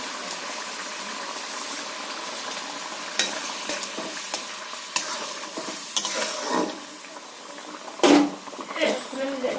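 Garam masala spices stirred and frying in a hot pan, a steady sizzle under scraping spoon strokes, with a few louder clanks and scrapes near the end and a voice talking over it.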